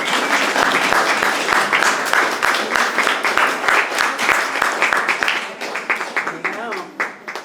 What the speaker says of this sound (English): you have to applaud extra loud for Frankie